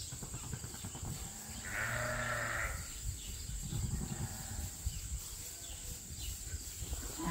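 Sheep in a breeding group of ewes with a ram bleating, with one clear, loud, sustained bleat near the middle against a background of outdoor farm noise and faint insects.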